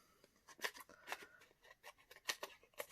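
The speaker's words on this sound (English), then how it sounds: "I'll just go around and snip a few up" Scissors snip card stock scraps during a Stampin' Up paper craft session, producing a quick series of short, crisp cuts, close and fairly quiet, with small irregular pauses between snips.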